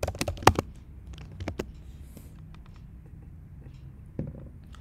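Typing on a computer keyboard while coding a bubble sort program in C, with a brief cluster of fairly clear keystrokes at the start, then sparse soft taps over a low room hum, and no talking.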